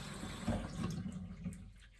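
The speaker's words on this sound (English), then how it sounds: "Just rinse it with a little bit of clean water." Warm tap water runs briefly over 3M respirator mask parts in a sink, a short splashing rush close by with no talk.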